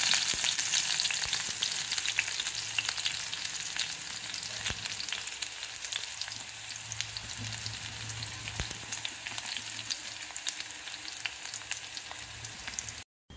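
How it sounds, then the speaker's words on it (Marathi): Garlic frying in hot oil with chilies for a fenugreek-leaf dish, a steady close hiss and sizzle that stays dense throughout with faint stirring scrapes, fading slightly toward the end and cutting off abruptly; no voices. "आता लसूण टाकूया आपण।"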